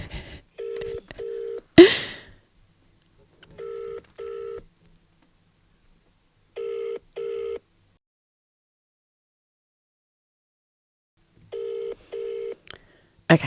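Touch-tone keypad dialing for a cold call: several short bursts of paired beeps in quick groups, with a brief rustle between them and pauses of silence, clear and close.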